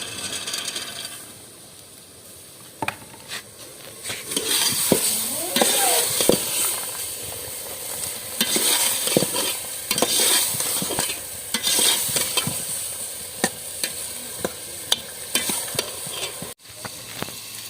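Peas fried and stirred with chicken noodles in a pan, a continuous sizzle broken by repeated scraping and knocking of a spoon against the cookware, loud and close.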